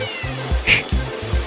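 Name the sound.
cat meowing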